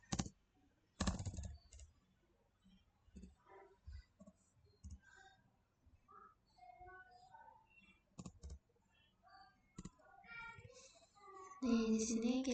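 A command typed out on a computer keyboard while configuring a network switch, with sparse, separated key clicks and short bursts of tapping in a quiet room.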